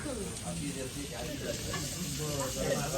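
Fish tawa-frying on a griddle gives a steady, close sizzle throughout, with voices murmuring faintly underneath.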